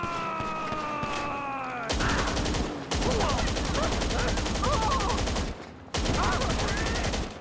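Sustained automatic gunfire in GTA 5 Online, long rapid bursts dumping a full magazine, loud and close, broken by short gaps, with whistles and faint in-game sounds before the shooting starts.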